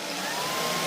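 A Shark vacuum cleaner runs with a steady, close, continuous whirring hum that holds a constant level throughout the short stretch.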